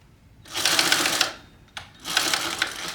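A sewing machine stitches fabric in two bursts of steady, rapid mechanical whirring, back-stitching at the seam start, with a brief pause between runs and no talking.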